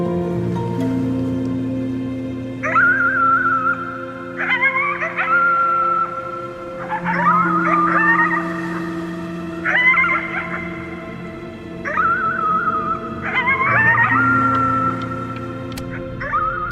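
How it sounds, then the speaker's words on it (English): A howl at the moon in the game Before Your Eyes, repeated rising, wavering howls in several bursts over a sustained low droning music bed, loud and close with no talking. "You howled at the moon at the top of your lungs."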